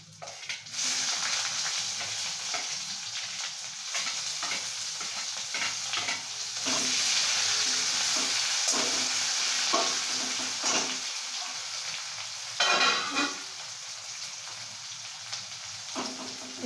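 Raw onion with bay leaf hits hot oil in a broad, steady sizzle, broken by repeated scrapes and clinks of stirring, loud and close for the whole stretch with no talking.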